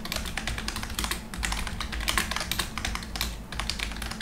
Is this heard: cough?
no